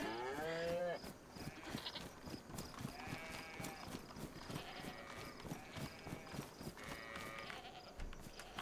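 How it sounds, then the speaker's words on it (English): Farm animals bleat and call at a small zoo with a goat among them, several short bleats scattered across the scene over a busy background of shuffling and movement, with a voice briefly at the start. "Look at that goat."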